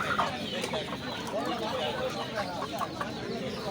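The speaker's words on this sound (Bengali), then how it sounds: "এই যে দেশি মুরগিগুলো" Desi native chickens cluck at a poultry sale alongside ducks, with repeated short clucks scattered at moderate distance while a person talks over them.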